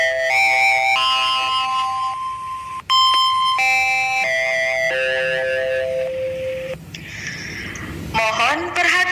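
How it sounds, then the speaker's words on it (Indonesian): Electronic school bell melody signalling the start of class, a loud sustained chime of stepped tones ringing for several seconds, with voices talking underneath. "Mohon perhatian, bel tanda masuk telah berbunyi."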